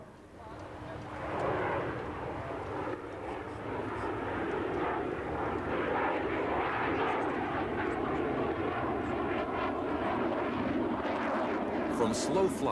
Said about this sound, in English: To make a left-to-right pass in nose-high slow flight at about 100 knots.